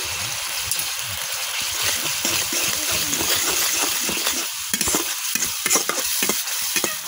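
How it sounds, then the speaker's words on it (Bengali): A spice paste of turmeric, chili and coriander powder with salt sizzles as it is stir-fried in oil for a baim and gutum fish curry; close, continuous frying hiss broken by repeated scraping strokes of a spoon. "এখন মশলাটা আমি কিছুক্ষণ কষাইলাম।"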